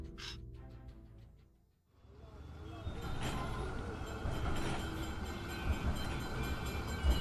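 A slow-moving tram rumbles in from near silence, building into a steady low rolling clatter with faint rattles as it travels on.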